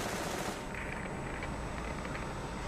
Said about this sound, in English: All I heard was gunshots.